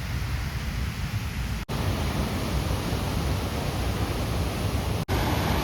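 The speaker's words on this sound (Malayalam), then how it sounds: "ഒരുവിധം നല്ല ശക്തമായിട്ട് തന്നെ അവിടുന്ന് വെള്ളം വരുന്നുണ്ട് കേട്ടോ" Strong stream water rushing steadily at Kakkattukada Anchuruli, a continuous broadband roar that stays loud and even throughout, with two brief dropouts and no talk.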